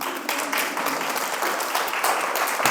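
An audience at a Confidence Catalyst PDX event applauds, a dense, even burst of clapping heard up close for a few seconds.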